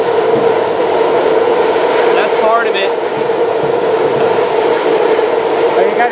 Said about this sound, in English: about every 15 minutes a BART train goes by